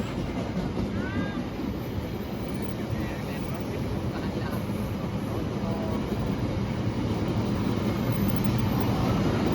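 Steady rumbling clatter inside the KA Pasundan New Gen passenger train travelling from Surabaya, a continuous loud rolling noise with faint squeals, heard from within the carriage.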